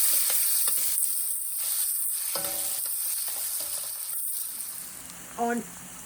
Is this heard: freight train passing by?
no